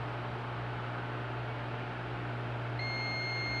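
A low constant hum runs throughout, and a multimeter's high-pitched beep, testing a microwave oven fuse, switches on near the end and keeps sounding.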